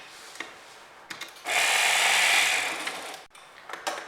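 A sewing machine stitches skirt fabric and its lining together in one steady, close whirring run of about two seconds, with soft handling clicks before and after and no talking.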